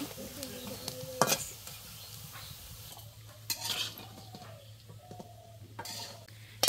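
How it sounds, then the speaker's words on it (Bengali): Milk-cream fritters (bora) frying in a pan, with a soft steady sizzle under clinks of a utensil against the pan and a few sharper scraping stirs. "মার এই পাশে বড়াগুলো ভাজা শেষ, এখন নামিয়ে নিব"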